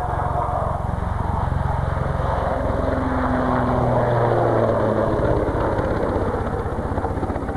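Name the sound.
helicopter flying a vertical turn at an airshow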